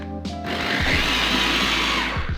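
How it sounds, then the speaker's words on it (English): Blender whirring at full speed as it purees a garlic sauce with white vinegar and sugar, a steady close motor roar starting after a brief click and running to the end without voices. "Add some white vinegar and some sugar and blend."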